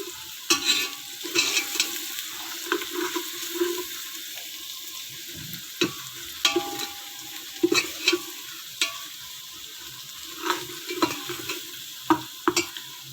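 Mutton pieces frying in a masala base in a pot, stirred repeatedly: a low sizzle runs throughout, broken by sharp scraping and clacking strokes of the spoon at irregular intervals, close by and with no voices.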